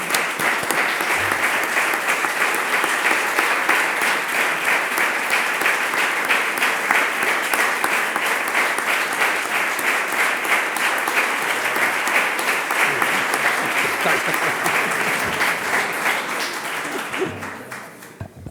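A lecture audience at an inaugural academic-year conference applauds in sustained, dense clapping that holds steady for most of its length, then fades out near the end.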